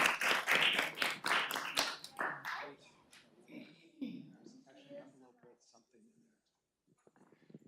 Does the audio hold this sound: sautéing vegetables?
no